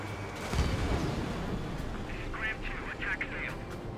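A missile launches from a fighter jet in Ace Combat 7, a loud whooshing rush layered over steady engine roar and game effects, while someone talks over it.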